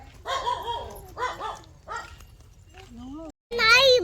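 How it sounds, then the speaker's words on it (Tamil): Several dogs bark in short, repeated bursts close by, with a high whining yelp between them and a final sharp volley of barks. "நாயெல்லாம் குலைக்குது"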